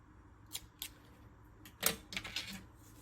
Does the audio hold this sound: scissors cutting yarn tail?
yes